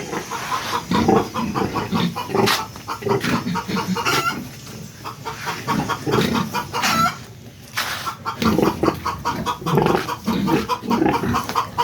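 Pigs and sows on a farm grunt and squeal loudly and repeatedly throughout, with chickens clucking, a rooster crowing and a dog barking mixed in nearby.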